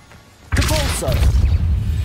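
Depulso force spell cast in Hogwarts Legacy, a sudden loud burst and whooshing thud that rings on with rumbling debris, with brief voice sounds mixed in.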